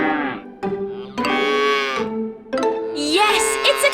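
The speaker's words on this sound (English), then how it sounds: "Yes, it's a cow!" A cow lowing in several long, harmonic moos, each a few seconds long with brief gaps between them, close and clear, with a higher bleat-like call at the end.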